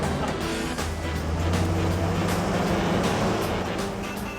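A 1941 Dodge army amphibious truck drives along a road in traffic, giving a steady, loud, close engine drone with a low rumble and broad road and wind noise that barely changes throughout.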